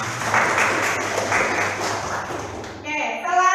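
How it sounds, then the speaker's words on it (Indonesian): A classroom applauds, a burst of mixed clapping from many hands that fades out, followed by a voice speaking. "Tepuk tangan buat Ibu."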